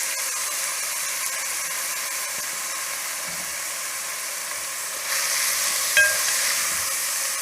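Potatoes for halwa go into hot oil, giving a steady hissing sizzle that grows slightly louder partway through, with a brief clink near the end; fairly close and without talk.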